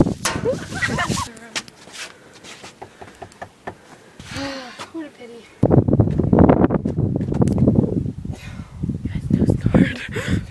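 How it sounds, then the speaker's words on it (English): Wind rumbles against the microphone in heavy gusts while several people talk nearby, the blustery noise surging loudly in the second half. "It's a tad windy."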